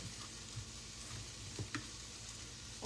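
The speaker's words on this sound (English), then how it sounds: "we're going to stir that up" Onion and celery seasoned with Everglades seasoning are stirred in a pot, a faint steady sizzle with a few soft scrapes and knocks of the spoon, quiet and close.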